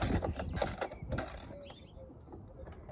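Ratcheting and tightening during a Yaesu G-650C antenna rotator installation, a quick series of clicks and mechanical rasps up close, then fading to quieter creaks with faint birdsong behind.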